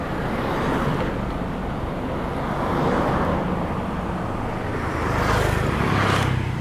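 Road traffic sweeping past on a street in Chiang Mai, Thailand, a steady broadband rush that swells as vehicles go by close to the microphone, with some wind buffeting and no talking.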